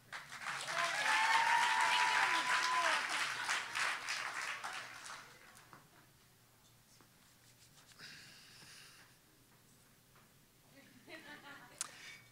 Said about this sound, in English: We need to applaud Eric.